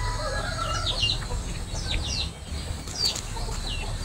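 Several labuyo chickens, wild junglefowl, cluck and chirp in short bursts over a low steady background rumble, fairly close, with scattered repeated calls.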